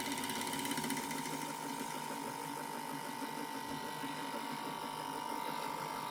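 A small electric motor running on a homemade switch, wired with piezos in parallel, gives a faint, steady, even hum with a constant tone and no change in pitch throughout.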